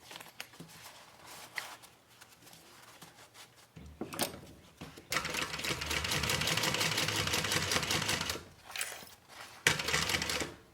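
A sewing machine top stitches the side of a thigh bag in a long, steady, fairly loud mechanical whir, broken by short pauses and brief bursts. Quieter handling and rustling come before it.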